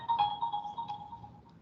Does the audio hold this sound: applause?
no